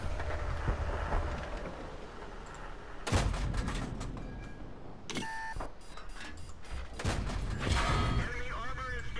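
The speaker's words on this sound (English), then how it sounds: "Come on, kill shot, Plum, kill shot" Tank cannon fire in the World of Tanks video game, featuring a Panzer III Ausf. K, comes as a few sharp, heavy blasts with game beeps and rumbling between them, while a player talks over the action.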